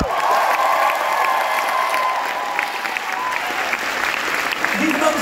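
Concert crowd applauds a percussionist and soul singer with continuous clapping and some cheering, a full sustained wash with faint voices mixed in.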